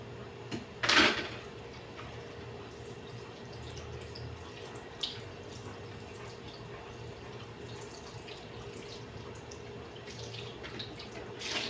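Food is rinsed under a running kitchen tap, with a steady faucet hiss and a few splashy knocks near the start, close and continuous.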